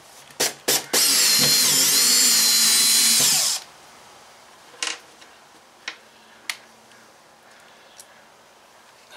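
Power drill driving 9/16 truss head screws into hatch supports on a teardrop trailer build, with a couple of short clicks and then one loud, steady whirring run of about two seconds, followed by light handling taps.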